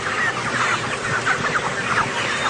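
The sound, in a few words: chickens clucking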